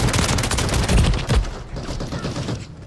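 In Modern Warfare 3 gameplay, heavy gunfire rings out in a rapid barrage of close booming blasts. The shots crowd together for about a second and a half, then fade into a rumbling tail.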